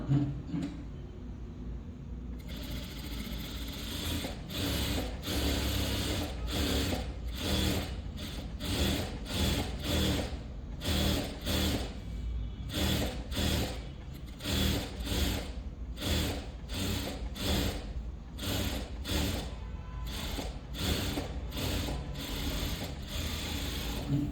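An electric sewing machine stitches the lining of a small child's skirt, its needle running in repeated bursts with brief pauses between them, steady and close, with no talking.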